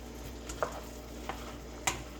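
Apples fry in a pot with a steady low sizzle, broken by a few soft clicks and scrapes as they are stirred.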